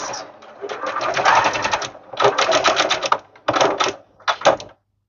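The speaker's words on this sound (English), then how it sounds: "I'm going to backstitch at the beginning and the end" A sewing machine backstitches fabric for a bow, loud rapid mechanical stitching in several bursts with short pauses between as the direction reverses, then stopping.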